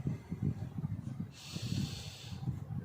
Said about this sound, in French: Je vais prendre 3 bonnes respirations et je vais avancer.